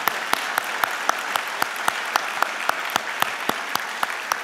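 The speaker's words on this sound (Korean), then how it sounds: "우리 다시 한번 수고의 감사 박수를 올려드리도록 하겠습니다." A church congregation applauds in thanks at a Thanksgiving special dawn prayer service, a steady wash of clapping with sharper individual claps standing out throughout, moderately loud and with no talk over it.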